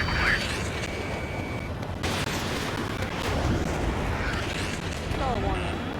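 Missile explosions in Ace Combat 7 aerial combat: a continuous roar of blasts and jet noise, with a sharp new burst partway through and faint cockpit warning tones over the din.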